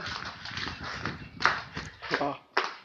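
Cattle graze in a forest clearing beside an abandoned house, their hooves thudding and clopping in uneven soft steps nearby, with people talking over them.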